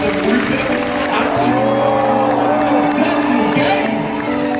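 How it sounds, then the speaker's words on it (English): A live audience applauds, stamps their feet and whoops in a continuous loud wash of crowd noise, with a voice rising above it partway through. "So let's start stamping those feet. And some applause. And some whooping."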